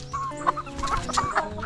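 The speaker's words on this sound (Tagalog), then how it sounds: "Yung ibibigay na manok ni Jumart sa atin nandito na oh. Kinulong na niya." A native chicken clucks steadily inside a newly built cage, close by and continuous, with no talking over it.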